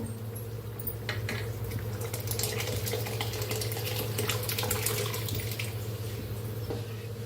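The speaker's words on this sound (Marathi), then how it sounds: "फोडणीत ओतून घेऊया" Cooked lentil dal poured into a hot tempering for sambar gives a steady, close liquid splashing and sloshing with a low background hum, continuous throughout, no talking.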